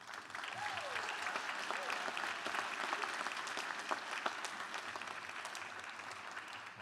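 Sustained audience applause fills a graduation convocation and hooding ceremony hall, a dense, steady clatter of many hands clapping at an even level for several seconds.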